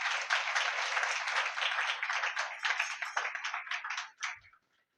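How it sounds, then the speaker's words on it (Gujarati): A church congregation claps loudly and steadily for about four seconds, then the applause thins into a few scattered claps and stops. "જોરદાર તાળીથી જાય"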